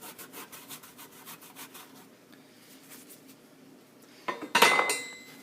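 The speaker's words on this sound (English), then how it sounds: "Wipe off the top with the paper towel." Paper towel wiping hard grime and grease deposits off a stovetop: rhythmic rubbing strokes at first, quieter scuffing, then a louder close scrape and rattle near the end, with no talking.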